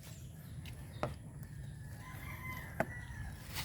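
Hens on a farm make soft, faint clucking calls over a low background hum, with a couple of sharp knocks or thumps close by.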